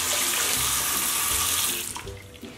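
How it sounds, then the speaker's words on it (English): Running tap water pours steadily as fabric face masks are rinsed in a sink, a loud continuous splashing flow that tapers off near the end. "First thing we want to do is to rinse off our masks."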